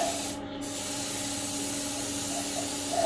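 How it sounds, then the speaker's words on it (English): An airbrush lays a light mist coat of paint on the underside of a model locomotive, a steady soft spray hiss that runs almost without a break for three seconds. "So we just start doing a very light mist coat there, just underneath."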